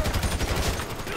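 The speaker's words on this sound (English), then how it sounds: "So I guess we're shooting our way out of here." Rapid gunfire during a shootout in Grand Theft Auto V, a dense continuous volley of close, loud shots with no clear gaps.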